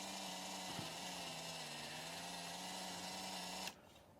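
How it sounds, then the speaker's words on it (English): A steady, high-pitched motor whine from a household drill boring through a model locomotive body runs continuously for several seconds, then cuts off abruptly as the drill powers down. "I'm using a household drill here"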